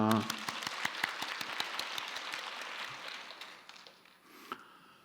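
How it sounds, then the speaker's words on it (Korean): A church congregation at a mothers' prayer meeting breaks into applause, a dense patter of clapping that fades out over a few seconds, with a voice speaking at the start. "우리 박수하겠습니다."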